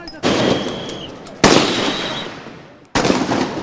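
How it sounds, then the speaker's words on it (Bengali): Three loud, sharp gunshot-like bangs, each followed by a long decaying echo, ring out amid street clashes during a long march protest in Dhaka, Bangladesh, with no talk over them. "আশপাশে তখন মুহুর্মুহু গুলির আওয়াজ।"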